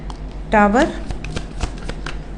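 Tarot cards are riffle-shuffled in one quick close-up burst, with a card dropping out, followed by light handling taps.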